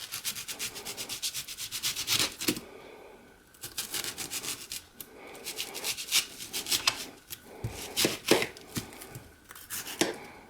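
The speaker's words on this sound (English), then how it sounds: "then start slicing" Knife slicing through a sweet onion on a cutting board, a close run of quick crisp scraping cuts in bursts, separated by short pauses.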